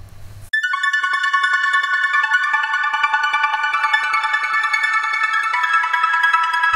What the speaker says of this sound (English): Then I added an ARP from SynthMaster 2 which sounds like this.